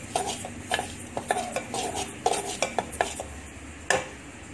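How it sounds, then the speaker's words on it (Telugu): White sesame seeds stirred and roasted in a pan, with a spoon scraping and clinking against the metal in irregular close strokes over a faint dry sizzle. "ఈ నువ్వులు కొంచెం వేపుకుని పక్కన తీసుకుంటాం"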